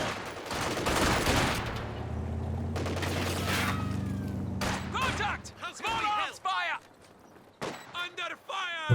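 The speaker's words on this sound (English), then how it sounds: "Seemed like the machine gun was just out of auto-fire range" Machine gun fire and other small-arms fire from a Company of Heroes 2 World War II strategy battle, heard as a rattling burst followed by scattered cracks. The shots sit under talking and game sound effects.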